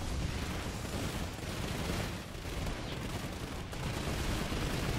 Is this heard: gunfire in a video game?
yes